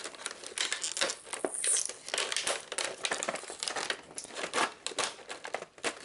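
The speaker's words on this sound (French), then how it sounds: "il faut que j'enlève les scotch" Tape being peeled and torn off a Zombicide Green Horde board game box, crinkly ripping and crackling bursts in an irregular rhythm, close and fairly loud, with no talking.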